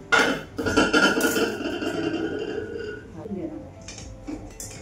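Metal clangs and rings briefly as a metal sieve is set down in a kadhai, mixed with a voice talking nearby.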